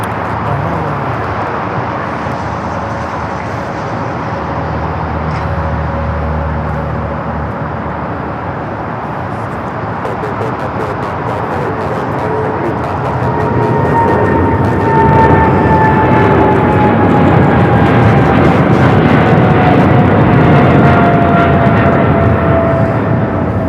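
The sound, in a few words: Air China Boeing 777 freighter taking off at LAX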